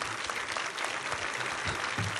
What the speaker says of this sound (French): Merci Monsieur Kaufmann, on peut déjà l'applaudir.